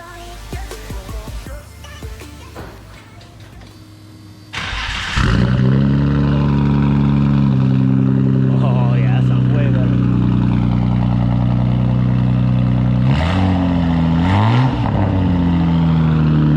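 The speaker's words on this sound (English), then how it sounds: "All right, first startup, let's hear it." Nissan GTR fitted with a custom track exhaust fires up after a few seconds of background noise, then settles into a loud, steady idle with two sharp revs near the end.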